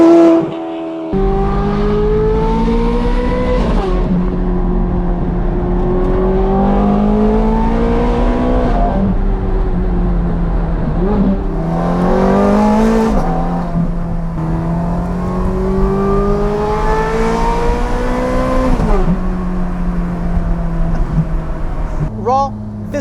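A Ferrari 430 Scuderia engine climbs in loud rising sweeps toward redline, falls back briefly between gears, then climbs again as the car accelerates on a canyon drive, with the driver talking over the engine.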